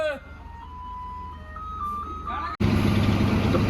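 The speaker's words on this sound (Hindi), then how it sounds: "यहाँ पर ये BS6 गाड़ी रिवर्स होकर लग रही है, जो कि जा रही है मंडी की तरफ।" A BS6 bus reverses into place at Jogindernagar bus stand, its reversing alarm sounding as steady melodic electronic beep tones over idling engine rumble, before a sudden louder burst of broadband engine and road noise.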